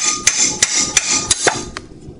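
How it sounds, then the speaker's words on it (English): A hammer taps down a part of a stock steering linkage during removal, giving about six sharp, evenly spaced metallic knocks, close and loud, with no talk. "We're going to tap it down with the hammer."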